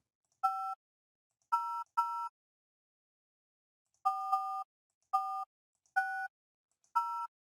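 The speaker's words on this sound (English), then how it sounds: "So I will dial an outside number" Telephone keypad tones dial an outside number: eight short two-tone beeps in an uneven sequence, some paired quickly and others spaced apart, crisp and close against silence.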